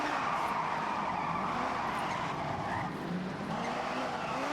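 A car drifts in Forza Horizon 6 on a Tokyo street course, its tires squealing in a continuous loud screech over engine noise that holds steady throughout.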